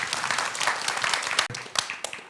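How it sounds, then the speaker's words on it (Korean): An audience claps steadily to welcome a broadcast documentary producer on stage at an education concert, a short burst of indoor applause with a brief dip before sparse claps resume. "박수로 맞이해 주세요"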